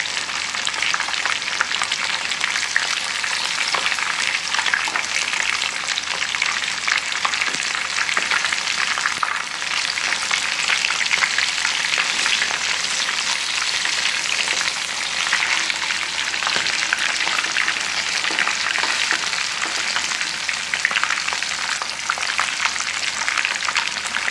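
Fish sizzles steadily in a pan over a medium flame, a dense, continuous frying hiss that holds evenly for the whole stretch with no voices.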